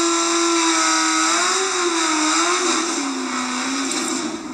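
A race car engine at a short-track racing shootout holds a loud, sustained droning note that rises and falls slightly as it runs, close and constant with no talk over it.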